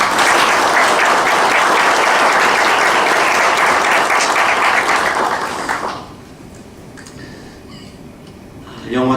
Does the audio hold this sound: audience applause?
yes